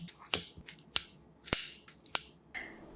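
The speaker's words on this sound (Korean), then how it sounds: "붙어있는 떡진 기름을 잘라낸 후 갈기 쉽게 듬성 잘라주세요" Beef sirloin being cut into rough chunks, heard as about five sharp, crisp cutting snaps at an uneven pace, close by with quiet gaps between.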